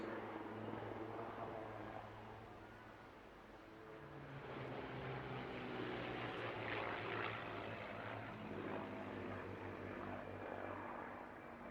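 Propeller aircraft flying a display routine at the Bournemouth Air Festival, its engine drone steady and distant, swelling louder midway as it pulls through the maneuver.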